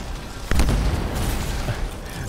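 A burst from an explosion in the video game Anthem, one boom at about half a second that rumbles on under dense game noise and muffled background sound.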